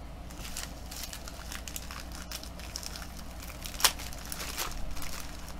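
Plastic inner packaging from a 5D diamond painting kit being handled and pulled open, giving a steady close crinkling rustle with one sharper crackle partway through.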